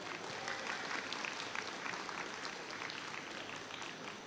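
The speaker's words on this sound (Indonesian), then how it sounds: "Yuk kita beri aplaus dong pada narasumber" An audience at a live talk show on financial literacy and inclusion claps for the panel speakers, a dense, even stretch of applause that holds steady throughout at moderate volume.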